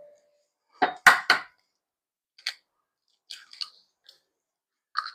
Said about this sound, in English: Okay, so 4 eggs beaten.